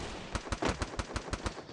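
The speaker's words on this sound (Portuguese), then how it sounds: "Eu dei tiro pro cara aí." Rapid gunfire from a shooting video game played on the BlueStacks emulator, about eight evenly spaced shots in quick succession, sharp and close, with no talking over it.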